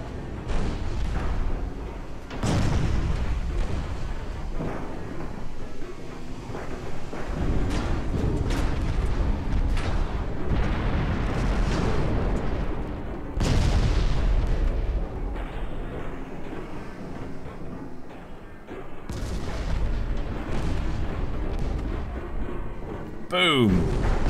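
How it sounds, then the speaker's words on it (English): Naval warfare video game battle with torpedoes and shellfire striking the battleship Texas, a series of heavy booms and explosive bursts at irregular intervals over a rumbling background, with someone talking between the blasts. "There's more torpedoes coming in to ruin her day."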